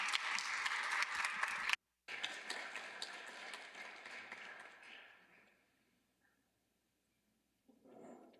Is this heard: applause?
yes